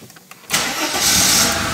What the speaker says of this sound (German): Ich starte jetzt den Wagen.